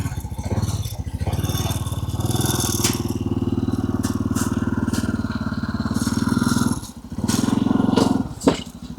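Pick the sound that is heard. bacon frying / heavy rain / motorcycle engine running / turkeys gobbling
motorcycle engine running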